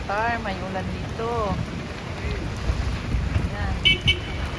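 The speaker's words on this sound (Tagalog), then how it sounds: "grabe yung lakas ng ulan" Heavy rain pours in Qatar with a steady wash of hiss and gusty wind rumble, while someone talks over it in the foreground.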